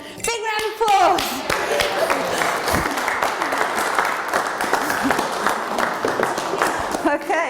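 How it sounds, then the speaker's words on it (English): Audience applause at a live science show, a child's cheer at the start giving way to sustained clapping from a crowd, steady and fairly loud with a few brief voices over it. "Big round of applause."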